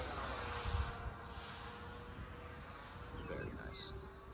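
A Freewing F-4 Phantom RC jet with a 90mm ducted fan passes overhead as a faint, distant whine and rush that hangs steadily in the air, with a person talking over it.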